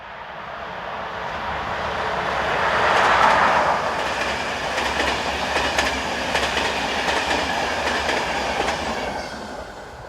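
A Czech class 380 electric locomotive heads the Budapest to Prague passenger train northbound, a broad, steady rush and roar that swells as it nears, then a long run of rhythmic wheel clatter from the passing coaches.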